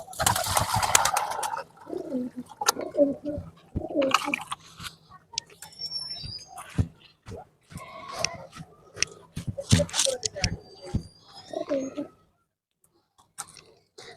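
Pet pigeons cooing at home after being fed and watered, soft low coos mixed with pecking and scattered clicks, wing flutters and a faint voice now and then, close and fairly quiet.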